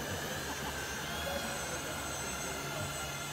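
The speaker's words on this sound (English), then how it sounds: "I'm gonna be flying with this airbus down on in there" Indoor RC model Airbus airliner flying at an indoor meet, giving a steady unbroken whine and hiss like a small electric ducted fan, loud and even throughout with no talk.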